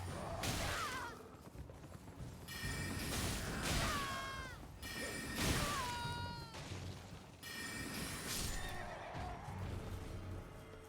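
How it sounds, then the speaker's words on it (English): A horse in the video game Elden Ring neighs and whinnies several times in loud, shrill bursts, with snorting and faint hoof and ambient sounds between them. "You're a free horse."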